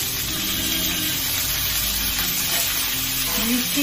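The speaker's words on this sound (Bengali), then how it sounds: "বেগুন, অল্প করে ভেজে নিব।" Eggplant fries in hot oil with a steady, close sizzle and light stirring scrapes, holding at an even level throughout.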